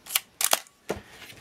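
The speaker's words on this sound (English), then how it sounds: "Let's operate the camera just a little bit to turn it back on. You can see the shutter curtains working properly." A Minolta XG7 film camera is worked by hand, its shutter firing and its film advance lever winding. Three or four crisp mechanical clicks and snaps stand out close up, with quiet gaps between them.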